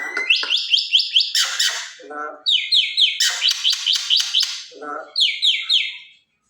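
A pet mynah gives bright, repeated whistling chirps in quick bursts with short pauses between them, close and clear, with no voices over the calls.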